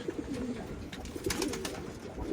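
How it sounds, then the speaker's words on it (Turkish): Pigeons coo steadily on a rooftop loft, a soft continuous murmur of several birds close by with a few louder bursts of calls, no talking over them. "Kuşlar acıkmış."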